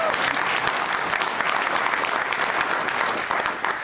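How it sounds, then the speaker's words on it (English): An event audience claps steadily and loudly for a few seconds, a dense, continuous wash of applause with no talk over it. "You clap if you want, yeah."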